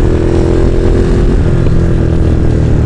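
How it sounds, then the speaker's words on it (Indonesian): A Ducati Monster motorcycle engine roars loudly and steadily at close range on the Mandalika race circuit, a continuous high-speed drone with no talking. "Sekarang kita sudah mulai sesi di sirkuit menggunakan Ducati Monster"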